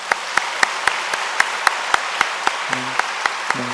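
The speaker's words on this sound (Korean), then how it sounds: "박수로 화답하여 주시기" Congregation applause during a Sunday worship service at a church: crisp, regularly spaced claps ring out over a soft bed of scattered clapping, at moderate volume, with faint hum underneath.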